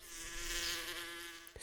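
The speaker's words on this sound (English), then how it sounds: "bee" A single insect such as a bee buzzes steadily and fairly close for over a second, a thin sustained drone that cuts off abruptly at the end.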